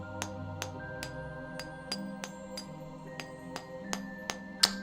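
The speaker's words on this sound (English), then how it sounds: "Let's clear our way with a hammer and chisel" A hammer and chisel strike a fallen boulder on a road in a fantasy role-playing video game: a slow, regular series of sharp metallic taps, about ten in all, ringing over a soft musical background, the last one loudest.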